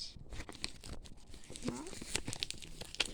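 A trading card pack is torn open by hand, giving short crinkly tearing and foil rustles in quick bursts, fairly close, with a few faint vocal sounds in the background.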